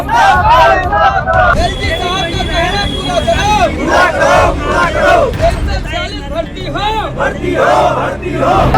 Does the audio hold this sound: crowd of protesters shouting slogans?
yes